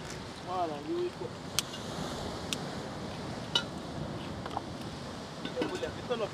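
Breezy outdoor wind at a cooking spot, a constant low rushing and buffeting against the microphone with occasional knocks and clicks, and a voice briefly heard early on.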